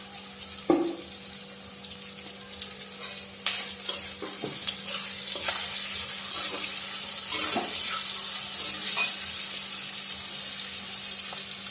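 Onions frying with salt in a pan for a chicken dish with tamarind, a steady hiss of sizzling oil with occasional scrapes and knocks from stirring, close and without talk.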